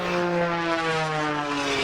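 A display aircraft flying aerobatics overhead and trailing smoke drones steadily, a fairly loud engine tone with a slow pitch shift across its short pass.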